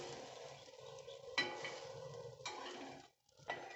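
Egg-and-milk-soaked bread fries in a little oil in a pan with a quiet, steady sizzle and a few sharp clinks of utensils against the pan.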